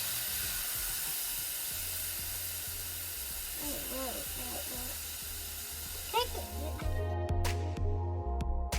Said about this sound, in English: I'm just gonna cook it until it's all browned.